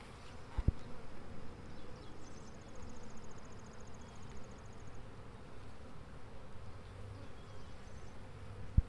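Honey bees inside a swarm trap, a soft steady buzzing hum at low level with a faint higher whine drifting in briefly, no talking.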